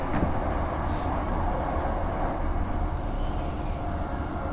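A passenger train rolls along between Woodbridge and Sherwood with a continuous low rumble and rattle of wheels on track, steady and close, with no voices.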